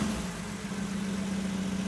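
A freshly rebuilt car engine idles after manifold repair in a custom garage, giving a steady, low, even rumble with a constant hum throughout and no voices.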